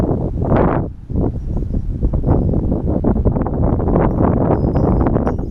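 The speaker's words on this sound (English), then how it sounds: "I'm going to just let the camera run, see if I can record some wind noise." Heavy wind buffeting an uncovered camera microphone while facing into the wind, a loud continuous low roar with gusty surges and a brief dip near the one-second mark.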